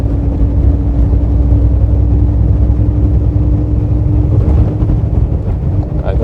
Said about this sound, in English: When the engine it's pushed to the maximum